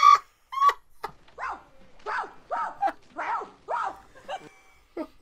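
A dog barks and yips in a scene from the 1988 film Scrooged, a quick series of sharp barks followed by several whimpering, whining cries, fairly close and clear with no talking over them.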